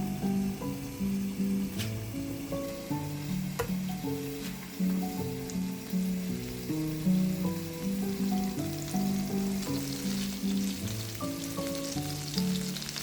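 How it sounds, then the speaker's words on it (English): Carrots sautéing in a pan with butter and vegetable oil give a steady, close crackling sizzle that runs unbroken throughout, with faint stirring scrapes and no talking. "Sauté the carrots."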